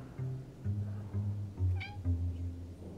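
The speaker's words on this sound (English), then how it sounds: "My cat in here is yelling now." A cat meows inside a London street scene from Assassin's Creed Syndicate, one drawn-out yowl near the middle of the clip, heard over a steady low game ambience and music.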